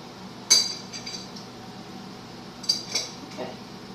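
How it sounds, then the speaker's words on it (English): A knife slices beets crosswise into small pieces, giving a few sharp, separated taps against the cutting board, close and fairly quiet. "I'm just going to slice them just like I did a few minutes ago."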